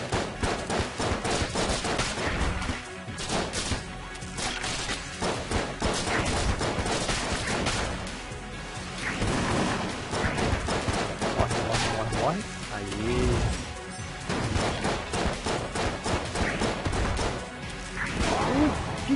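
Rapid primary-weapon gunfire from the video game Enter the Gungeon, dense bursts of shots layered with crashes and game effects, continuous and loud throughout, with someone speaking over it.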